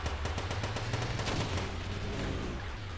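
A small front-mounted gun on a vehicle fires in the game Scraps, a steady run of rapid, close gunshot bursts over a low engine-like rumble.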